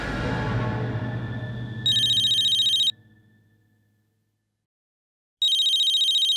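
A phone rings with an incoming call, sounding as a bright electronic trill that breaks off and then starts again after a silent gap, following a fading low rumble.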